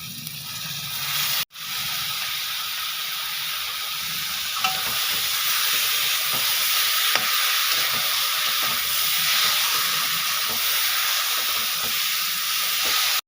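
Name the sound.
boiled taro leaves frying with salt and turmeric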